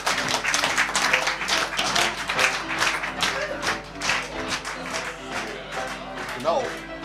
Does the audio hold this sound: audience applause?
yes